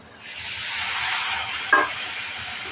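Onions fried with cinnamon, cloves, cardamom and bay leaf for a beef tripe curry hiss in a pan, a close, even sizzle that swells and then settles, with one brief clink of a utensil partway through.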